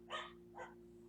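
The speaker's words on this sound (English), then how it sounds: "Sorry about the dog in the background barking." A dog barks twice in the background, short and muffled, over a steady low electrical hum with no talking.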